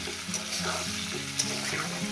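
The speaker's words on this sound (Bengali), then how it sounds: "সাত আট মিনিট আমি আলু আর পেঁপেটাকে করে ভেজে নেব" Potato and papaya pieces fry in a pan with oil, a close, continuous sizzle broken by soft scraping stirs for a couple of seconds, with no talking.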